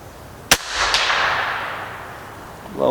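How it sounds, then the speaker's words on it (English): A single sharp gunshot from a NETVOR 458 gun being test-fired, a loud crack followed by a long fading echo, with faint movement noise afterward. "This is my first time shooting this gun today,"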